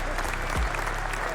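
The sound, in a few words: applause sound effect played on stream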